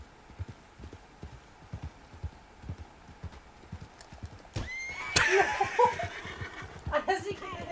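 Steady clip-clop of horse hooves trots along in the Red Dead Online video game, then a horse neighs loudly; quiet voices are faintly present.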